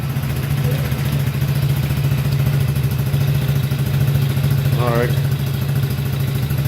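An Exmark Radius zero-turn mower engine runs at a steady idle just after being started, a close, constant low drone with a brief whine near the end and a short spoken remark over it.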